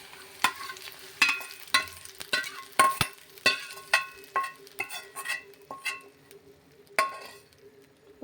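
Fried curry leaf tempering is poured into cooked lentils and stirred. Soft sizzling runs under a string of sharp metallic clinks and scrapes from utensils against the pan, close up and with no voices.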